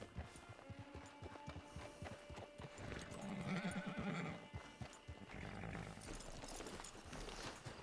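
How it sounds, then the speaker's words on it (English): Horse in a video game, clip-clopping hooves with a whinny in the middle, faint and steady amid game ambience. "Get your horse."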